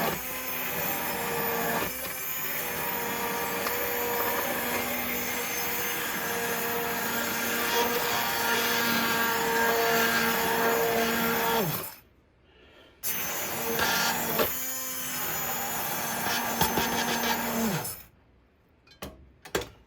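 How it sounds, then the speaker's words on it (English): An electric blender chopping onion pieces for tomato soup whirs steadily, with occasional knocks and rattles as chunks hit the blade; the motor stops twice, briefly, then winds down at the end. "What you're hearing there when the blender's hitting something, that's pieces of onion."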